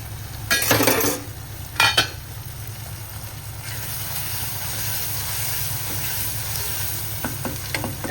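Masala sizzles and fries steadily in a pan for a pasta dish, with two louder bursts of stirring near the start and a few light utensil clicks later, and no voices.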